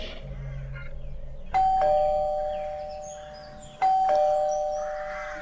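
Doorbell of a house in a quiet lane chiming twice, each bright electronic ding ringing out and slowly fading, with a short silence before the first press.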